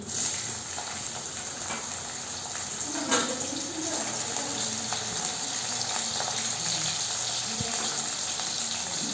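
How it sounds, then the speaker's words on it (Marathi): Green chilies sizzle in hot oil in a home kitchen, a steady, moderately quiet crackling hiss with a few small pops and faint clatter, no talking over it. "तेल टाकते ती मिरची"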